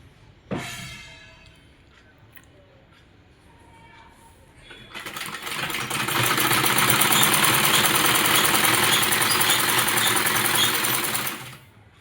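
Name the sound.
sewing machine stitching satin petticoat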